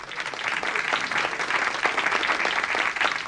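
Studio audience applauding on a television talk show, a dense, steady wash of many hands clapping close and loud throughout, with no voices over it.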